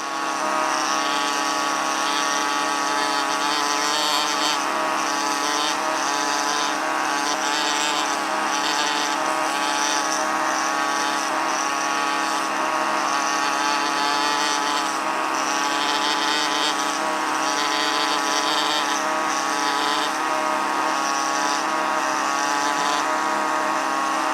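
A pneumatic air tool working away rock around fossil bone in a prep lab gives a loud, unbroken high-pitched buzzing whine that holds steady throughout, close by with no pauses.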